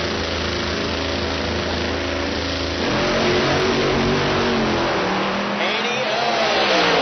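Chevrolet drag racing car launching down a PDRA dragstrip at US 131 Dragway, a loud engine roar that swells and climbs in pitch as it pulls away, heard over a steady crowd and track background.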